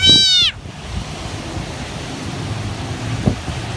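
A frog, out in the rain, gives a single short meow-like call at the start, then steady rain patter and rumbling noise fill the rest, with no talking.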